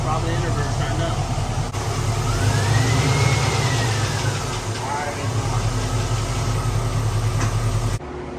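A 1969 Camaro's engine runs close by with a steady mid-pitched idle and a gentle throttle blip that swells and eases, while people talk over it, then cuts off abruptly near the end.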